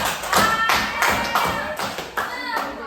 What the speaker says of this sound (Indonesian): Tepuk tangan dong untuk Good job.